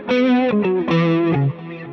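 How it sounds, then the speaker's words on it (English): Electric guitar driven through a Tube Screamer overdrive on a Kemper profiler, playing a short sustained melodic phrase of a few bent, held notes with a warm, gritty distorted tone, loud and alone. "because you throw on a tube screamer."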